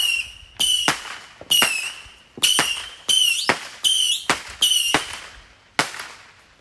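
Fireworks burst loudly in a rapid series of about ten sharp bangs, each trailed by whistling crackle, close and alone with no talk.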